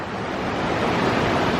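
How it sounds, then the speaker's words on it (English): Fast-flowing cold river water rushes steadily, a dense broadband wash that stays close and loud and never lets up. "that water's moving fast though"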